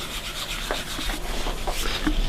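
A wooden model ship deck being rubbed by hand with a shellac mixture, close, continuous scrubbing strokes with a dry, rasping texture and an even rhythm.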